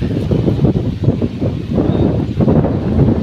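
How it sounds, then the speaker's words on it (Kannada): Strong wind buffets and roars steadily, gusting low and heavy close to the microphone, with no voices. "ಹೆವಿ ಸಿಕ್ಕಾಪಟ್ಟೆ ಗಾಳಿ ನೋಡಿ, ಮರ ಗಿಡಗಳೆಲ್ಲ ಹಿಂಗೆ ಹಾರಾಡ್ತವೆ"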